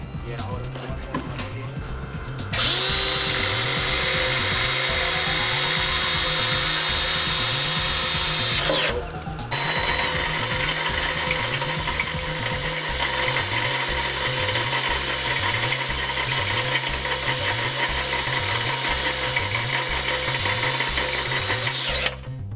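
A power drill whirs steadily at high pitch, briefly stopping and restarting, drilling fender flares for rock guards, over a rhythmic engine-like thumping and faint background voices.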